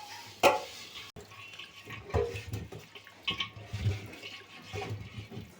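Water splashes and trickles in uneven bursts while the outside of a clay pot is rubbed with salt and rinsed by hand, with scattered clunks and wet scrubbing sounds.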